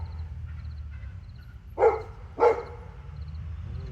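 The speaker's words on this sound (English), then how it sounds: "we got equipment showing up, dogs barking, all kinds of fun stuff going on" Two distinct dog barks ring out about half a second apart, at moderate distance, over a low outdoor rumble.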